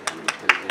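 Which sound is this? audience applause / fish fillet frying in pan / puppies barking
audience applause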